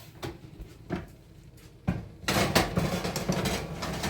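A baking dish of türlü, a Turkish vegetable stew with diced meat, is slid into a preheated oven, with a few light knocks and scrapes of cookware followed by a louder, sustained clatter and rush of rack and oven sounds, no talking.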